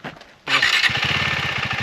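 KTM motorcycle engine starting up after a quiet moment, catching abruptly and settling into a steady, close, loud idle with rhythmic low pulsing.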